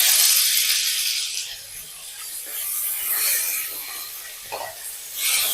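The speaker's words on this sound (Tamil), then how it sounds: "தக்காளி நல்லா வதங்கட்டும்." Tomatoes and capsicum cook in oil in a pan with curry leaves while a spatula rubs and scrapes across them, producing a hissy sizzle that swells and fades in waves, close by and with no talking.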